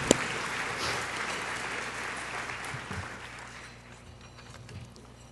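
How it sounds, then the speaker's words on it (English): Audience applause at a chamber of commerce annual meeting and awards luncheon, a broad round of clapping from many people that gradually thins and softens over a few seconds. "Please join me in a round of applause for them."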